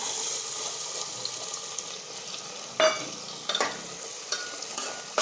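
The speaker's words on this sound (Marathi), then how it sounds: "बटर आणि तेल गरम झालेलं आहे चांगलं आता याच्यामध्ये कांदा टाकून घ्यायचा" Onion frying in hot butter and oil in a pan for pav bhaji, a steady close sizzle with occasional scraping stirs.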